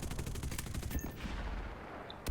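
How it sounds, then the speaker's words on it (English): Rapid bursts of 20mm cannon fire from a Puma armored car in the War Thunder video game, a rattling volley of sharp shots up front with a dense crackle of gunfire continuing underneath and a final loud crack near the end. "Is that the one with the 20mm cannon on? The Puma."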